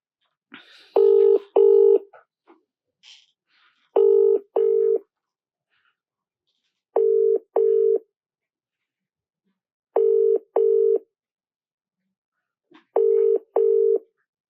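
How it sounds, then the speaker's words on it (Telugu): A telephone ringback tone repeats in five evenly spaced double pulses, loud and clean, on an outgoing live call that goes unanswered, with no voices over it. "సో మనకి ఫోన్ రింగ్ అవుతుంది కానీ అన్వేష్ ఒకసారి బిజీగా ఉన్నారనుకుంటా."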